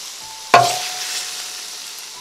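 Beef stir fry in a hot pan, stirred with a wooden spoon: one sharp scrape or clack followed by a steady, fairly loud sizzle that fades slowly.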